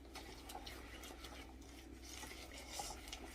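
Chocolate chip cookie ingredients being mixed in a bowl with measuring spoons, faint soft scraping and clinking of a utensil against the bowl in a quiet kitchen.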